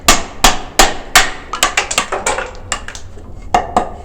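A hammer strikes 2x lumber again and again, a series of sharp, close, loud knocks that start slowly and speed up to a quicker rhythm before a final few spaced blows, with no talking.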